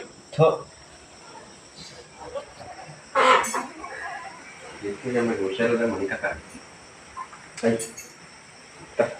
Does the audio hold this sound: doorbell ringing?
no